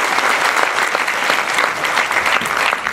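An audience applauds in a theatre. The clapping is dense, loud and steady, a continuous wash of many hands with no pause.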